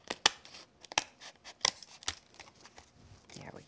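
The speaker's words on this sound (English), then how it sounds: "And then just go back in with our scissors, catching all the way under that piece there." Scissors snip through layered paper on a faux wicker craft background, several sharp close cuts in an uneven rhythm with soft paper rustling between them.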